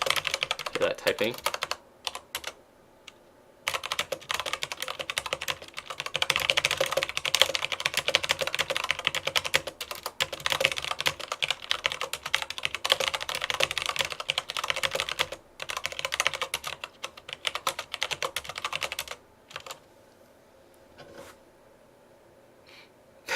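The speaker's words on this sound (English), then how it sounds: "Hear that typing?" Rapid keyboard typing on a computer during a Dota 2 session, a dense clatter of keystrokes running nearly throughout with a few short pauses, close and fairly loud, with occasional breathy noises.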